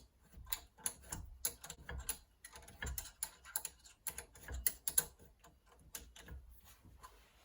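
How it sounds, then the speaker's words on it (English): A spanner taps repeatedly on a rusty brake part from a classic Rover Mini, making a run of sharp, close metallic knocks in an irregular rhythm. "I'm going to tap with the spanner"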